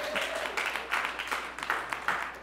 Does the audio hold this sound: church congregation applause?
yes